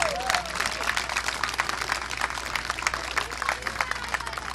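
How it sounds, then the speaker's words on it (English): Crowd applause for two championship youth baseball teams at a World Series game in Lumberton, a dense spread of clapping with a low steady hum underneath and some voices mixed in. "Let's give them one more round of applause."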